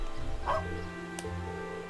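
A dog in the video game Trails of Cold Steel gives a single short bark, close and moderately loud, over steady in-game background music.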